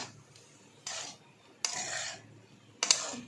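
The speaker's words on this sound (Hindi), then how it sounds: "अब हम इन्हें टॉस करके ये सारे मसाले से मिक्स कर देंगे।" Crispy fried potatoes tossed with spices in a pan over a low flame, for Sindhi-style fried potatoes: three separate bursts of scraping and rattling, each lasting about a second, with quiet gaps between them.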